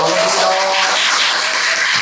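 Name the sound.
audience applause for the chairman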